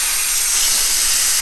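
Coolant spraying out of an opened cooling-system valve on a Ferrari F430 during a thermostat change, a loud steady hiss of pressurized fluid that runs without a break for over a second.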